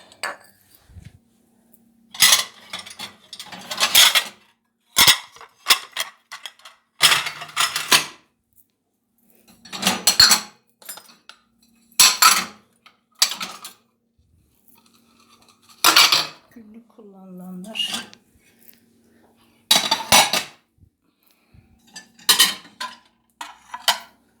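Cutlery, dishes and glasses clink and clatter in repeated bursts with short pauses, close by, as items are unloaded from a dishwasher and set down one after another.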